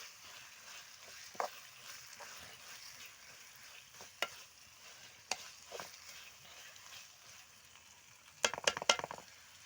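A spice mixture frying in a pan for chana dal palya, a soft steady sizzle under occasional scraping and stirring clinks of a spoon, with a louder flurry of metallic stirring near the end.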